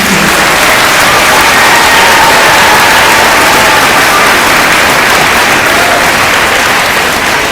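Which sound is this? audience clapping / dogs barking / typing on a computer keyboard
audience clapping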